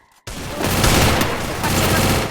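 Rapid bursts of gunfire from a shooter video game head-to-head match erupt suddenly after a brief quiet moment, loud and dense, continuing without pause for the rest of the moment.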